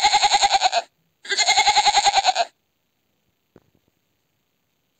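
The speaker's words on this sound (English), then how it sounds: "Goat." A goat gives two loud, close bleats in quick succession, each a wavering, quavering cry, followed by near silence and a faint click.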